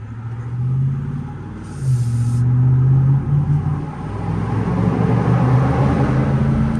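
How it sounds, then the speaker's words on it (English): A pickup truck pulls out from a stop, its exhaust a low rumbling drone that swells as it accelerates, with faint tire noise beneath, close and steady throughout. "You can hear the exhaust, hear the tires a little bit."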